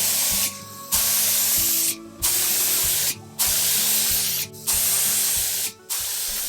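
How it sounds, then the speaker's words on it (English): Walnut stain is sprayed onto a chest of drawers in five steady hissing bursts, each lasting about a second, separated by short pauses, close and clear. "I decided to spray the entire chest of drawers with walnut stain."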